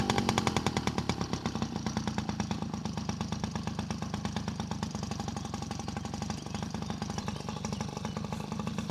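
A Yamaha PW50 dirt bike engine idles with a rapid, even two-stroke putter, close and steady throughout with no voices.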